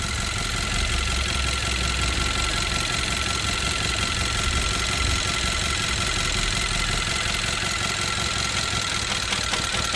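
A 2017 Hyundai Tucson 1.6T AWD idles with a misfire, its steady mid-pitched engine drone carrying faint knocking pulses and a constant high whine throughout, recorded close with no talking.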